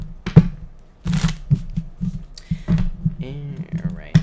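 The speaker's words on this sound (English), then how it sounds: "Alright, 2 more shuffles here, people." Tarot cards being shuffled by hand, a series of short papery riffles and slaps in uneven bursts, fairly close, with a person speaking intermittently over the shuffling.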